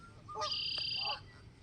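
A single bird lets out a short, nasal squawk, fairly faint against a soft background hum.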